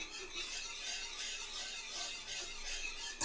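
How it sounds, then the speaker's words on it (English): A whisk beats through a reducing syrup mixture flavored with Mexican vanilla concentrate, a fast steady swishing and faint scraping against the pot for a few seconds, with no talking. "now we're going to give this a whisk"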